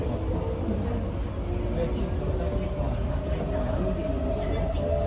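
An MRT metro train in Singapore hums and rumbles steadily from inside a carriage, with a faint high whine over the continuous low drone.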